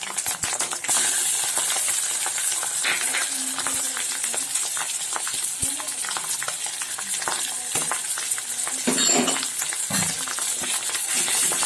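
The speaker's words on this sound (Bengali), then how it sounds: "এগুলোকেও খুব ভালোভাবে একেবারে লো আঁচে ভেজে নেব 1 মিনিট ধরে" Ginger and garlic paste fries with onions over low heat for chicken kosha, giving a steady close sizzle with scattered stirring clinks and scrapes throughout, no voices.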